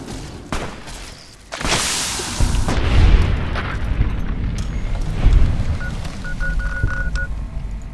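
Gunfire in Fallout: New Vegas as enemies are shot, a series of loud booming blasts and cracks over about eight seconds with a brief beeping tone near the end, no talk.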